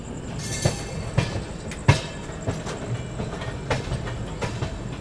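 A train rolls into a station on the Saharanpur side, near Delhi–Vaishno Devi route, with rhythmic clicking of wheels over rail joints, steady rumble underneath and a faint high squeal, no voices.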